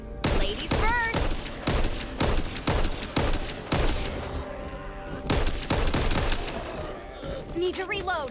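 Rapid bursts of SMG fire in the co-op zombie shooter Back 4 Blood, loud repeated volleys with short pauses between them, then a brief lull before more shooting. Other game sounds mix in throughout.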